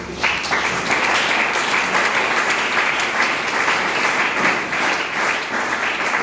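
Loud, sustained applause from a leadership meeting audience in Mauranipur, Jhansi, with dense steady clapping filling the whole stretch and no voices on top.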